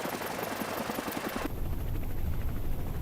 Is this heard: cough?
no